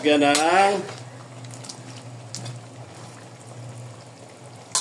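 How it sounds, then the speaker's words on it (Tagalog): Water poured into a cooking pot for pork bone tinola, a brief gushing splash at the start that gives way to a soft simmering hiss and bubbling, with a person talking over it. "lagyan natin ng tubig"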